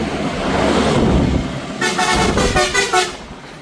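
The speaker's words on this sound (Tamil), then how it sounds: "கோனுகள் அடித்து தள்ளுறாங்களப்பா ஆ இப்படி சத்தம்" Several car horns honk in quick succession amid steady road traffic, the blasts loud and close, overlapping in a busy street in Moolai, Jaffna.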